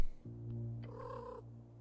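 A cat in the fantasy role-playing game Esoteric Ebb purrs and gives a short tonal meow-like call, a low steady rumble continuing beneath it, close and clear with no voices.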